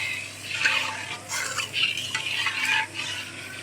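Meat dropped into hot spiced oil and stirred in a pan, giving a steady sizzle with repeated scraping strokes close by and no talking.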